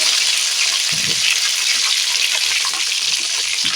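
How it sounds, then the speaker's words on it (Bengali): Potatoes fry in hot oil in a wok: a loud, continuous, hissing sizzle with a couple of soft low knocks from stirring, heard close up with no talking. "কড়া তেলটা গরম হয়ে গেছে আমি দিয়ে দিচ্ছি ভালো করে নড়াচড়া করে ভেজে নেব"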